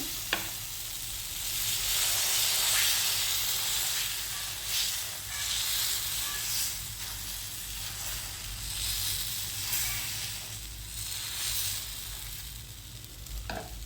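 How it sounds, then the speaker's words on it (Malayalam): Dosa batter made with wheat flour sizzles steadily on a hot griddle, a continuous bright hiss that swells and eases a little, with no talking. "ദോശക്കല്ല് അടുപ്പത്ത് വെച്ച് ചൂടായി കിട്ടിയിട്ടുണ്ട് അതിലേക്ക് നമ്മൾ ഈ മാവ് ഒഴിച്ചു കൊടുക്കുകയാണ്"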